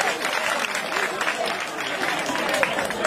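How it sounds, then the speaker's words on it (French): Audience at the Festival du Livre et des Arts du Denguélé in Samatiguila applauds steadily for about three seconds, a dense, even patter of many hands with no clear break. "Applaudissez pour vous."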